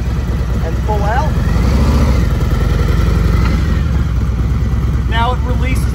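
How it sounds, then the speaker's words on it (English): Motorcycle engine on an incline runs with a steady low rumble and gradual throttle rise as it pulls away, loud and close throughout, with faint tonal chirps in the background. "If I put my hand back on the throttle and pull out,"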